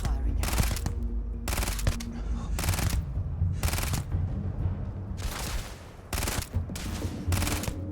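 Automatic gunfire from a sci-fi shooter in Starfield, rattling off in repeated loud bursts separated by short gaps, with a steady low rumble of ambience underneath.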